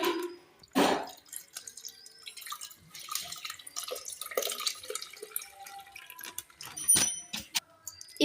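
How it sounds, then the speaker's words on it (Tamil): Water with live fish is tipped through a net into a home fish tank, giving close, scattered splashes and drips with short pauses between bursts. "இப்போ நம்ம இந்த ஃபிஷ்ஷை வந்து இப்படி நெட்டு வச்சு இதுக்குள்ளார தண்ணி அப்படியே போகிற மாதிரி ஊற்றிக்கலாம்"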